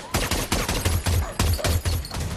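Sharp, loud gunshots fire in a rapid, uneven series of about a dozen cracks over a couple of seconds, close and alone with no voices.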